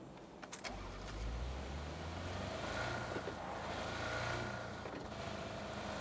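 A car engine starts in PUBG: a few short clicks, then a low steady idle hum that carries on loud and close with no one talking over it.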